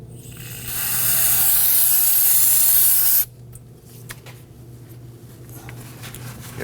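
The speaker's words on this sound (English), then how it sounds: "don't forget to spray that down with some spray solvent and clean that up" Spray solvent hisses from an aerosol can onto the front brake hose fitting of a 2018-2024 Toyota Camry in one loud, steady burst of about two and a half seconds, then cuts off to quiet clicks and handling noises.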